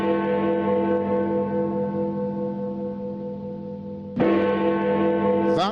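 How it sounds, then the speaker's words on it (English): Tower clock at the Ghana Post Office in Accra's Central Business District chimes, a loud, sustained bell tone ringing with long reverberation, then a second strike near the end renews the ringing. "That's the unmistakable chime of the tower clock at the Ghana Post Office in the heart of the Central Business District of Accra."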